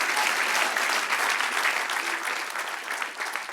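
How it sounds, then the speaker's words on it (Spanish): A church congregation applauds, a dense, steady burst of many hands clapping that fills the room and keeps going without a break. "Dale un aplauso al Señor."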